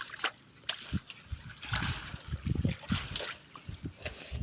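Water trickles and splashes softly as jasmine seedlings are dipped and soaked in a Trichoderma viride solution, with faint, irregular splashes close by.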